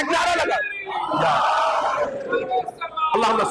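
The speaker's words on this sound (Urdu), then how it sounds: "ایک نعرہ لگا" A crowd at a religious majlis gathering chants a slogan in unison, loud massed voices rising together as a single call.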